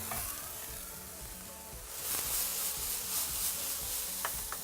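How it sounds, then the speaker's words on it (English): Mushrooms sizzle in a hot pan over a wood fire, a steady crackling hiss that grows louder midway, with a few sharp pops and light stirring. "The mushrooms are sizzling away happily."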